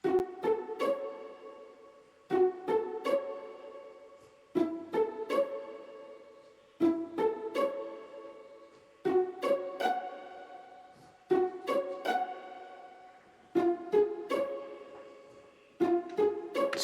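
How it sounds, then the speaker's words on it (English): Pizzicato strings from a song pluck a repeating pattern of short, bright notes, each figure starting on a stronger accent and decaying, steady and close with no voices. "there's also these strings that's happening on the guitar solo, these pizzicato strings"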